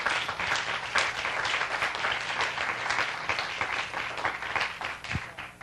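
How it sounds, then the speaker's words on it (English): Sustained audience applause at a forum session on international freight sustainability cooperation, dense steady clapping from a large crowd that holds at even loudness for several seconds with no talk over it. "please, everyone, give yourselves a round of applause"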